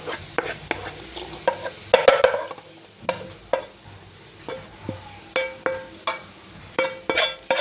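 Fried snack pieces are tipped back into a non-stick pan and stirred: repeated sharp scrapes and clinks of a utensil in an uneven rhythm over a soft background sizzle, close and fairly loud, with no voices.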